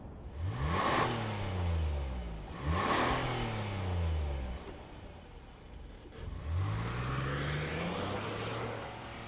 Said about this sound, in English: let's fire it up and see this Telluride roll